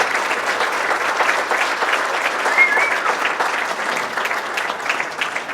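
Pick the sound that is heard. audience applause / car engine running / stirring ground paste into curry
audience applause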